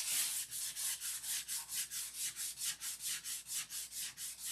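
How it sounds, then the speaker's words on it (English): Hand sanding with 600 grit sandpaper during a finish sand out, a steady back-and-forth rubbing in an even rhythm of about four strokes per second, close and continuous. "I could sand on a cap strip and be right through it."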